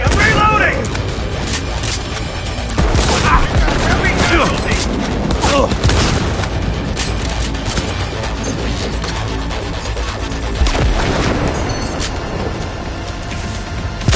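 Loud, sustained gunfire from Cyberpunk, with dense overlapping shots, booms and crashes forming a constant barrage and a few sharper bursts standing out.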